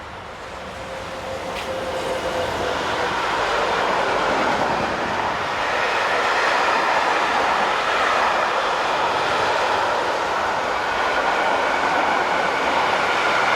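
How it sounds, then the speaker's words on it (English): French freight locomotive 26221 hauling an intermodal train northbound on the Mâcon to Chalon-sur-Saône main line, a rising rumble as it approaches, then a loud, sustained roar of passing wagons. "It was eventually broken by 26221, which headed north with this intermodal at just before 8 p.m."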